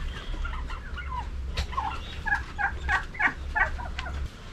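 Turkeys of several varieties on a small farm gobble in a rapid series of loud, warbling calls, with bursts repeating through the second half over a steady low background hum.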